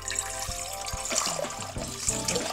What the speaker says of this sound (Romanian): Acum adăugăm 600 de apă.